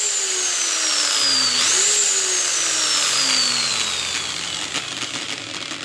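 A power drill runs at top speed turning a DC motor, producing a loud, steady high-pitched whine whose pitch sags and briefly rises, close and continuous throughout.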